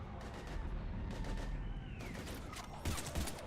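Gunfire in a Mass Effect 3 battle scene, with scattered rifle shots and bursts building to louder volleys near the end, at moderate distance amid combat noise and little speech.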